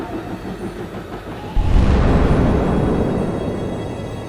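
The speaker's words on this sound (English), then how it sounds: "a massive explosion." A sudden deep rumbling blast erupts and rolls on as a sustained, loud roar that slowly fades.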